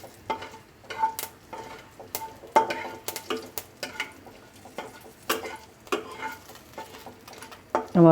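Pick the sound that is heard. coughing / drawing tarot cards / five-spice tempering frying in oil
five-spice tempering frying in oil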